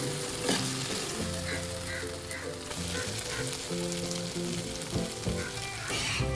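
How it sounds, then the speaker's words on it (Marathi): Fried paneer being stir-fried in a pan over a medium-high flame, giving a loud, continuous close sizzle with occasional scraping and stirring sounds throughout, no voices. "पनीर घातल्यानंतर मीडियम हाय फ्लेमवर पनीरला परतून घ्यायचं आहे"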